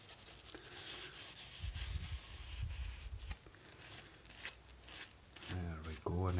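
Protective coating rubbed by hand onto the carbon steel blade of a folding saw, a close, continuous scrubbing and rasping friction in uneven strokes, ending with a brief clatter and a faint voice.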